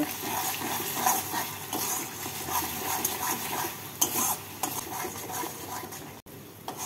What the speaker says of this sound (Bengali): এবার নুন, হলুদ আর চিনিটাকে ভালো করে মশলার সাথে মিশিয়ে নেব।